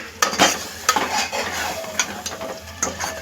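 Fresh yogurt is stirred into a mutton curry masala in a pan, with repeated scraping and tapping strokes of a spoon over a soft sizzle. The stirring is close and rhythmic, with no voices.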